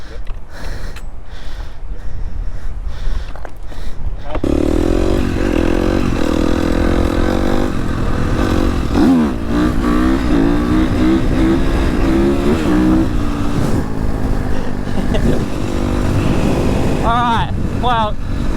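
Dirt bike engine idling and revving close by, a steady buzzing drone with rising rev sweeps, after an opening stretch of quieter rustling and talk, with a person speaking over it.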